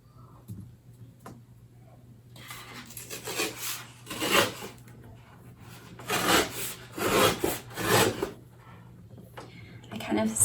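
Watercolor paper is torn by hand along a marked line, producing a series of rough, fibrous ripping bursts that grow louder toward the end, with some handling noise between them.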